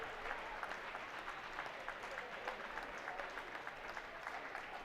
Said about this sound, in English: Claps starting to erupt here from the student section here at Laconia.